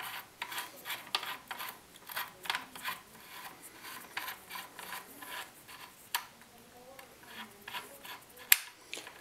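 Repeated ratcheting, grinding clicks as a reverse-threaded AK47 muzzle brake is turned by hand, steady rhythmic metallic rasps up close with a sharper click near the end.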